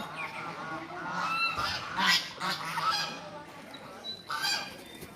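Several geese honk repeatedly at close range while bathing in water, loud nasal calls overlapping in quick succession over a faint watery background.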